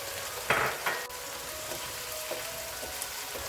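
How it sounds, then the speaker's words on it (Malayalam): Shallots and green chillies sautéing in a pan for a shallot and dal sambar, giving a steady soft sizzle with a few brief louder stirring bursts near the start and faint scrapes later. "ഒന്ന് വഴറ്റിയെടുക്കണം ഒരു ഗോൾഡൻ ബ്രൗൺ ആകണ്ട"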